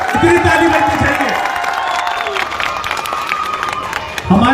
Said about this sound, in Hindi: इतनी ताली बजनी चाहिए